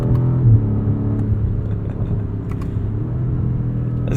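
A 2021 BMW M5 Competition's engine hums and rumbles steadily from inside the cabin while driving, loud and continuous with a low droning tone and slight shifts in pitch.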